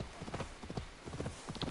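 Horse hooves in Assassin's Creed Valhalla clip-clop steadily in a quick, rhythmic gallop, moderately quiet and without other sounds over them.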